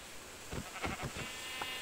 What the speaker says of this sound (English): but I found the sheep.